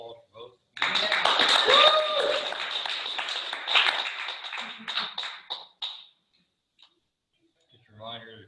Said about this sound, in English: Another round of applause for both.